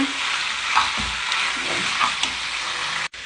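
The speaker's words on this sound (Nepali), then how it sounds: "अब यसलाई चाहिँ मजाले भुट्नुपर्छ। यसको पानी निस्किन्छ।" Pork for achar fries in a pan as its released water cooks off, making a steady, close sizzle with faint stirring scrapes and no talk.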